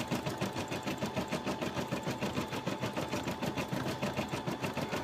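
A home embroidery sewing machine running steadily, close up, with a fast, even mechanical chatter of needle strokes and a low motor hum throughout, no voices.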